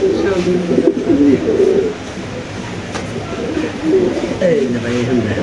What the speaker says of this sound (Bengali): ইন্দোনেশিয়ান মুন্ডিয়ান একটা মাদি কবুতর